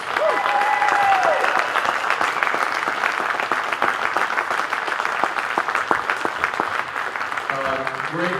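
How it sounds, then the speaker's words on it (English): Applause for a high school boys basketball team at a welcome-home celebration in Wessington Springs, a crowd clapping steadily with a few cheers, and a voice starting to speak near the end. "Let's give them a round of applause."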